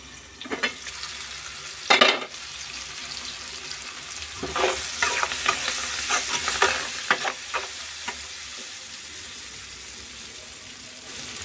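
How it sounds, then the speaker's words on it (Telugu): Food frying on a low flame in a pan, a gentle continuous sizzle with bursts of stirring and scraping, heard close up without talk. "ఈ మనం హైలో కాకుండా కొంచెం సిమ్లో పెట్టుకుని ఫ్రై చేసుకుందాం"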